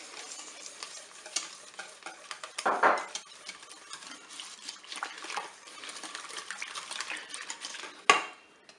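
A custard mixture of eggs, milk, cornstarch and coconut powder is stirred in a pot, giving steady spoon scraping and sloshing with a sharper clatter near three seconds and again near eight seconds.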